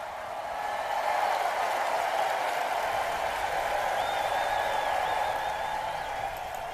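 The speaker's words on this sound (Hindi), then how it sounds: "पहले तो तालियों की गड़गड़ाहट" Steady, even applause from an unseen crowd, a continuous wash of clapping that holds at the same level for several seconds with no voices over it.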